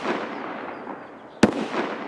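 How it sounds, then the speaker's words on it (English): A single sharp gunshot in the shooter game Escape from Tarkov, heard at a distance as one loud crack standing out against steady ambient background noise, with no talking. "Yo, someone's shooting."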